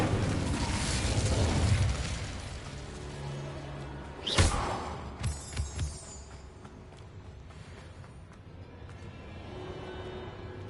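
Incendio fire spell cast in the Hogwarts Legacy video game, a sudden whooshing burst of flame that flares loudly once, then trails off into a few smaller crackling pops over a steady background game ambience.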